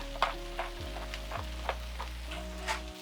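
Corn and beans seasoned with salt and cracked black pepper tossed in a hot pan for a Chipotle-style burrito bowl, soft sizzling with a few light scraping stirs over a low steady hum.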